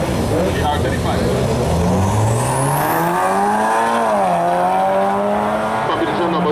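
Black Nissan GT-R R35 drag car launches down the strip at a drag racing shootout, a loud engine roar rising in pitch with a brief tire squeal, heard alongside a talking announcer.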